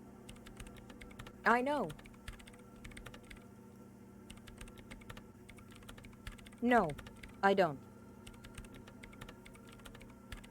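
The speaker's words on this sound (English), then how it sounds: "her hands typing hundreds of commands into the machine" Soft, quick keyboard typing clatters steadily in the Disco Elysium video game while someone speaks a few brief lines over it.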